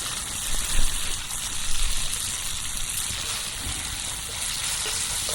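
Hash browns fry in butter and olive oil in a deep cast iron skillet over a campfire, a loud steady sizzle and crackle filling the whole stretch with no talking.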